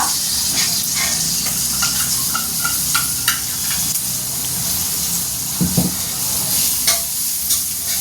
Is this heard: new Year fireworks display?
no